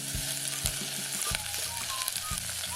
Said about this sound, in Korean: 파기름을 넣기 위해서 파를 조금 넣은 거예요. 그리고 살짝 볶아주시고